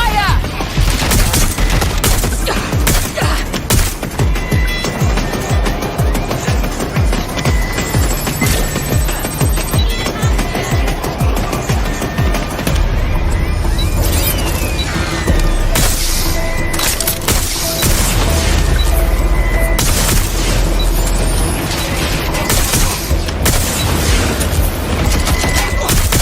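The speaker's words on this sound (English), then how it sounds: "Taking fire!" Heavy, sustained gunfire in the video game Watch Dogs Legion on PS5: a loud, dense fusillade of overlapping shots and booming impacts that runs almost without a break, with voices heard now and then over the shooting.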